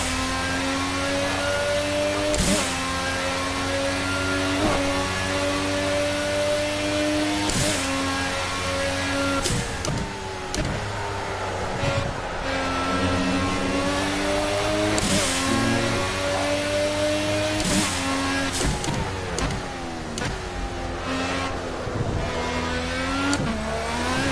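Racing car engine in Project Cars during a time trial, revving hard and climbing in pitch, with repeated gear shifts cutting the tone, loud and continuous.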